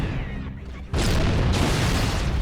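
Grenades going off in the video game Halo: Combat Evolved, a loud booming blast that erupts suddenly and rolls on into a dense, sustained roar after some preceding rumble.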